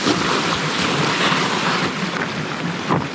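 A bike splashes through a creek crossing on a rocky mountain trail, a loud, broadband rush of water and spray that stays steady, with no talk.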